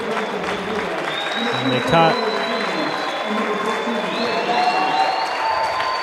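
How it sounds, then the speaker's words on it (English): A crowd applauds steadily at a high school basketball senior night in a gym, sustained clapping and some cheering under a commentator's voice. "The crowd applauding the seniors and Ryan Weiss, especially as he's coming out of the game."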